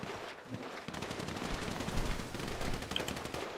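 Sustained rapid automatic gunfire in a GTA roleplay game, dense overlapping bursts running continuously at steady loudness, with no talking.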